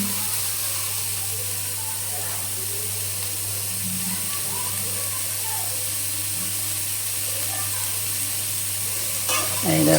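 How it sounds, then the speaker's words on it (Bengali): Soybean chunks fry in a pan with a constant sizzling hiss and occasional stirring, a low hum underneath and a louder burst of sizzle at the very end. "মাঝে মাঝে একটু করে নাড়াচাড়া দিয়ে দিই"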